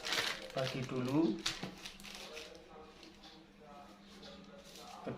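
Plastic bags crinkle and rustle as cooked white carp bait is divided between them, loud crumpling at first then softer handling, with a person talking throughout.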